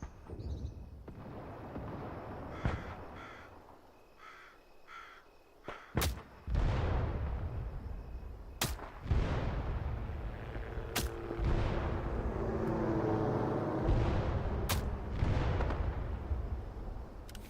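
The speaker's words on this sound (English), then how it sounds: "Now let's use an artillery strike to blast the enemy point before our team advances." Artillery shells explode in Hell Let Loose Vietnam, several sharp heavy booms spaced a few seconds apart over a rumbling battlefield background, loud and close with rolling echoes.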